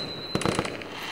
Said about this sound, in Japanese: キュンちゃん、花火ナイス